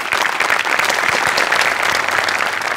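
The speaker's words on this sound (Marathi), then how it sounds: "आमिर हडकरसाठी एकदा जोरदार टाळ्या." A studio audience at a Marathi comedy show applauds a performer, with dense, loud, sustained clapping from many hands and a faint crowd murmur beneath.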